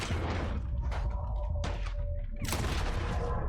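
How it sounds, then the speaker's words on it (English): A Gatling gun fires in Red Dead Redemption 2 with dense, rattling volleys of gunfire in several bursts, loud and close, separated by brief pauses and ringing tails. "Oh my, they got a Gatling gun."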